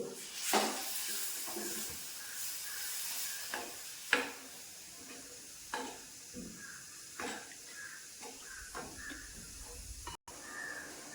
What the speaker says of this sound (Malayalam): ഞാൻ നല്ലോണം ഫ്ലാസ്കിൽ എടുത്ത് വെച്ചിരിക്കുന്ന ചൂടുവെള്ളമാണ് ഞാൻ ഒഴിച്ചു കൊടുക്കുന്നത്